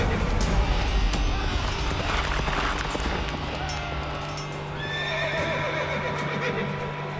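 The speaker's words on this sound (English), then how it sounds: "The horses are just throwing themselves almost against the schiltrons with the spears pointing outwards." Horses in a charging cavalry attack: loud neighing and whinnying over a thick, rumbling clatter of hooves, with shrill cries rising near the end against a steady low drone.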